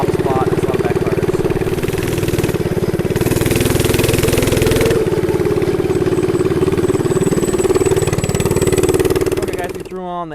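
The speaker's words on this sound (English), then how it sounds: "this one pops a lot. There's a lot of backfires." Stage 2 Predator 212 minibike engine runs loud and close with a rough, uneven idle, punctuated by irregular pops and backfire cracks, and a voice speaks over the engine.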